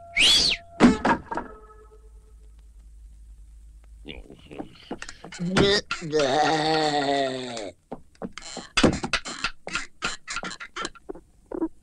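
A sharp, high whistle to make a camel kneel sounds at the start, a brief rising tone, followed by speech and background chatter.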